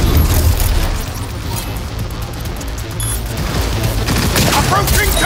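Sustained heavy gunfire and booming blasts in a Cyberpunk 2077 firefight on Very Hard difficulty, loud and continuous throughout, with voices shouting over the dense barrage.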